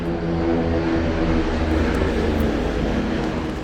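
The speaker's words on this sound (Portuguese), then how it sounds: "Está passando um helicóptero aqui" A steady mechanical drone of a helicopter hangs overhead, loud and constant throughout, with a low throbbing hum.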